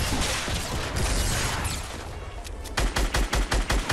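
Rapid gunfire in the video game Fortnite, bursts of close, loud shots packed together early on, a quieter stretch, then a string of distinct punchy shots spaced evenly at the end.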